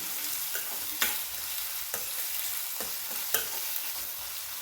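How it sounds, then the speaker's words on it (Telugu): Green chilies and onions fry in hot oil for an Indian aloo curry, giving a steady close sizzle broken by several sharp scrapes and clinks of a stirring spoon, with no voices. "ఉల్లిపాయ చక్కగా వేగేంత వరకు వేయించుకుని"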